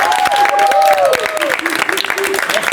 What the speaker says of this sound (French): Hey, puis les membres qui sont venus, on applaudit.